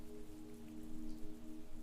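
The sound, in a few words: heavy rain pouring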